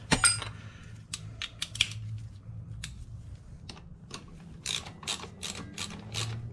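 A ratchet wrench tightens a bolt during a brake pad replacement, giving a run of quick, close mechanical clicks in short bursts over a low steady hum.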